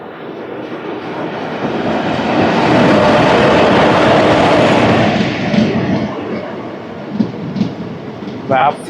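The 17258 Lingampalli to Narsapur express train, hauled by a WAP-4 electric locomotive, rushes past close by: a loud, broad roar of wheels and carriages swells to a peak and then fades, with sharper clanks near the end.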